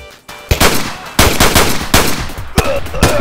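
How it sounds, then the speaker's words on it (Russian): Pistol gunfire in Escape from Tarkov rings out as several loud, sharp shots at uneven intervals, close and echoing, with no voices. "Пистолетом стреляет."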